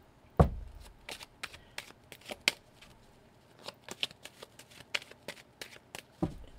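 A deck of playing cards being shuffled during a tarot-style card reading, a sharp riffle at the start followed by a run of quick, crisp card flicks and snaps, close and fairly quiet, with no talking.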